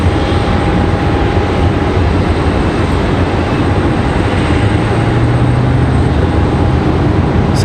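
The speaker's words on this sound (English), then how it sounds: "So the 757 off to Atlanta" A Boeing 757 jet departs for Atlanta from Raleigh-Durham International, its engines a loud, steady broadband roar that holds unbroken throughout, with no voices.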